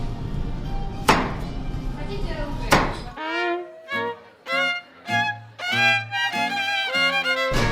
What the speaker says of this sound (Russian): Режем аккуратно цукини